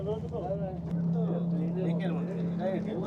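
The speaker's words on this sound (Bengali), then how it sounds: "বোট রাইড হচ্ছে আমাদের।" A motorboat runs at sea off Dhublagadi beach in Odisha, with a steady low engine drone that steps up as it gathers speed, heard under close, excited talking.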